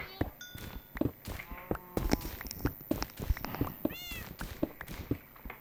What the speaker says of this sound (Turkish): Kedi de miyavlıyor sürekli.